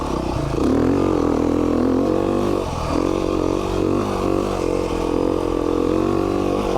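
A 2019 Beta 390 RR Race Edition off-road four-stroke motorcycle holds a steady, loud engine drone close by, with a brief dip near the middle before the revs climb back and hold.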